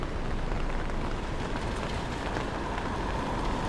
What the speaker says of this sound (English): It's a little bit of rain